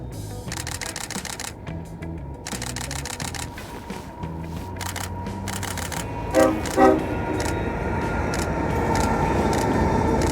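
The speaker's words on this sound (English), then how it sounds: "I can now hear actually not just the whistle of the train, but the actual train" A long train rumbles past steadily at Morant's Curve in Banff, with rhythmic clacking of wheels over rail joints and a couple of brief louder squeals partway through.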